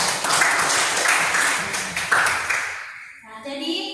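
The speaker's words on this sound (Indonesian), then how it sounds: "Tepuk tangan untuk kelompok 3" A classroom of students applauds a group after a maths lesson on matrices, dense clapping filling most of the clip before fading out near the end as a voice begins.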